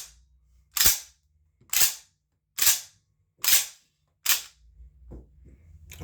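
A pistol loaded with snap caps is dry-fired and cycled in five sharp, evenly spaced metallic cracks about a second apart, close and loud, followed by softer slide and handling clatter.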